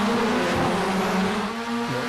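Pack of Formula Ford race cars in an Australian eSeries racing simulator, engines droning and revving loudly together at the start, pitch sweeping up and down continuously.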